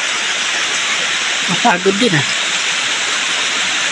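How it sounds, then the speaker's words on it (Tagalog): River water rushes and hisses steadily throughout, loud and close, with a brief stretch of talk partway through. "nandito na ako sa ilog"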